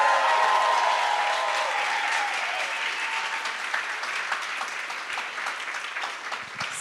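Audience applause at a CreativeMornings breakfast talk in New York, a broad sustained round of clapping that starts full and gradually thins and softens toward the end, with no talking over it.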